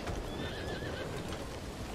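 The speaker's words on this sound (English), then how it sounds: "Get on the horse." A horse whinnies with a rising, wavering call over steady hoof clatter and outdoor rumble, fairly close and loud.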